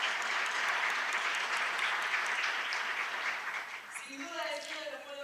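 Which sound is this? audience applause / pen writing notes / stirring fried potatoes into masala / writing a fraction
audience applause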